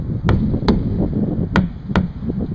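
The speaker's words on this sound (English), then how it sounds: "But I always bump the tire with a hammer." Hammer blows strike an inflated tractor tire to check its pressure, four dull, separate thumps with a short ringing tone, spaced unevenly over steady outdoor background noise.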